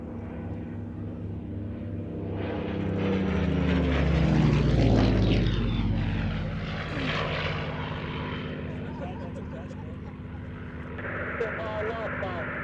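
A propeller aircraft departing at the Shuttleworth air show passes close by, its buzzing engine rising to a loud peak with a falling Doppler sweep and then fading away, with voices talking throughout.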